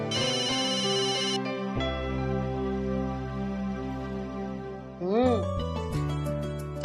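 Melodic phone ringtone in a Punjabi TV serial scene, a loud sequence of tones that changes pitch partway through, with sound effects joining near the end.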